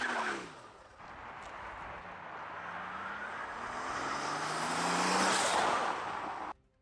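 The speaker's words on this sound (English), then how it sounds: "So you can just hear that air rushing in, and then our aftermarket blow-off valves." A car with aftermarket blow-off valves is driven with intake air rushing in as a steady broadband whoosh that swells as it accelerates, then cuts off abruptly near the end, heard from inside the cabin.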